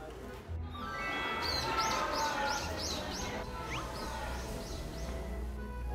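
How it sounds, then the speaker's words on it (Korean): Birds chirp outdoors on a fine day, a series of short, high, repeated calls over a steady murmur, with a faint rustle early on. "와, 새소리까지 들려."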